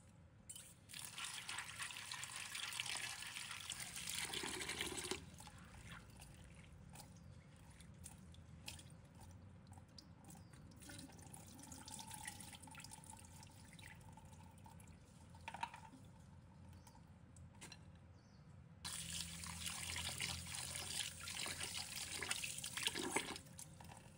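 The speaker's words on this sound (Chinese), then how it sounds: "接着把红豆和糯米分别过水洗净" Red beans and glutinous rice are rinsed under running tap water, with a steady close stream splashing and trickling, broken by quieter stretches of swishing and dripping.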